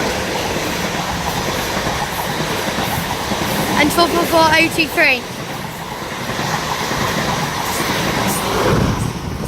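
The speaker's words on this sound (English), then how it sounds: "Now passing through is the 1108 South Western Railway service to London Waterloo." A South Western Railway class 444 electric train rushes past at St Denys with a steady rail roar and brief squealing tones midway, while a station announcement and a voice are heard.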